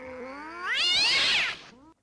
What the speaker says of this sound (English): That's the cats fighting the lions.